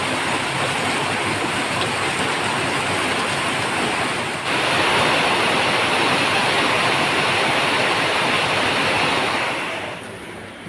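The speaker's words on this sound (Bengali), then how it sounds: "দেখুন এখন প্রচণ্ড জোরে বৃষ্টি হচ্ছে" Very heavy monsoon rain roars down and splashes into a drain, a dense, loud, continuous wash that surges even stronger midway before easing slightly at the end, with no talking.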